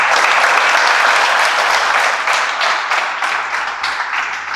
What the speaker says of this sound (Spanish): les quiero dar un aplauso por ustedes mismos